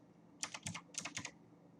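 Keys clatter on a computer keyboard in two quick bursts of several strokes each, close and clear, with no voices over them.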